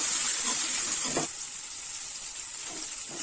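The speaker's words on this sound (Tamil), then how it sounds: "இது கூட தக்காளி சேர்த்திக்கோங்க புளியும் சேர்த்திக்கலாம் கொஞ்சம் நல்லா வதங்கட்டுங்க" Tomatoes fry in a pan for horse gram chutney, giving a steady bright sizzle and hiss that eases slightly after the first second, close and continuous with no talking.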